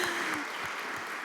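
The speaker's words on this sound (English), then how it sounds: "it's worth a round of applause there" A round of applause rises from a conference audience at a climate and food-systems session, a steady wash of many hands clapping with no voices.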